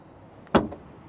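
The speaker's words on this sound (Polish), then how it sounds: "jak pięknie i delikatnie tu się zamykają drzwi" Door of a 2006 Honda Accord 2.0 i-VTEC closing, a single soft, close thud with a short muffled tail in an otherwise quiet setting.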